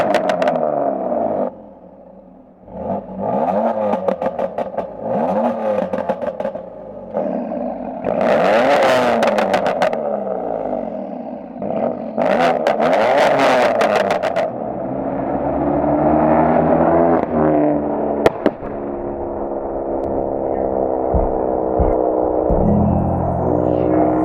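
A car fitted with a sports exhaust passes on a street, its engine revving up and down through repeated flybys, loud and near, with rising and falling whines and rasping exhaust bursts, no voices.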